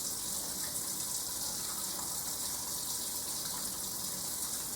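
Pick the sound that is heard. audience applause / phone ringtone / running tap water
running tap water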